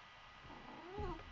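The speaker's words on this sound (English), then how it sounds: "Well, he meowed." A house cat gives a single drawn-out meow, quiet and close, rising toward the end with no other voices.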